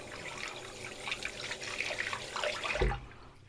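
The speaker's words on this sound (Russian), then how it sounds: "И просто берем под водой, все хорошенько промываем." A tap runs steadily as a nose and ear trimmer is rinsed under the stream, water splattering and gurgling close by before the flow cuts off.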